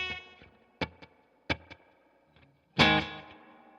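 A guitar played through a digital delay effect sounds a few plucked notes with faint decaying repeats, then a louder strummed chord rings out at the end, close and without talking.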